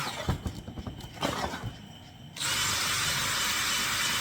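A Scotch-Brite abrasive wheel spun by a DeWalt power tool, cleaning up a handmade steering stem for a custom Harley Dyna: scraping, rattling contact noises at first, then a steady loud whirring grind that runs to the end.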